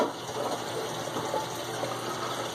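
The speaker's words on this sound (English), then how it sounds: "you run it under the cold water just to make sure that you've got it fully cleaned out" Cold tap water runs steadily over shrimp being cleaned, a continuous close gushing splash with no talk.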